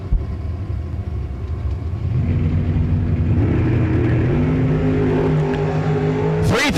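A Chevy II Nova and a 1970–73 second-generation Camaro launch side by side at a drag strip, loud engine rumble building into sustained high revs that hold steady to the end.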